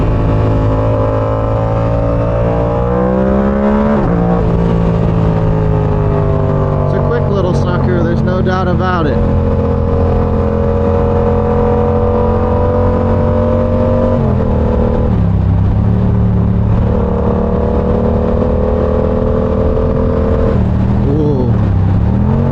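Loud, close exhaust roar from a Yamaha R7 motorcycle with its baffle removed while riding, a steady droning note that climbs and dips as the throttle changes, with someone talking over it.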